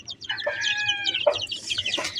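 A hen clucks in a short run of close, bright calls, with no voices around.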